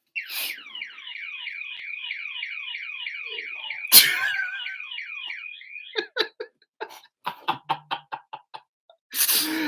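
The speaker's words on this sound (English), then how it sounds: "I can't believe now I set the alarm off" A car alarm wails through a rapid repeating warble, then switches to a series of sharp pulsed beeps; a loud knock cuts in partway.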